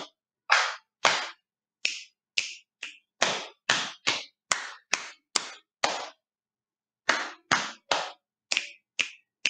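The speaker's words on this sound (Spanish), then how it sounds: "Y luego, aplauso." Sharp hand claps ring out alone in a quiet room, about twenty crisp, close smacks in an uneven pattern of singles and short runs, with a brief pause in the middle.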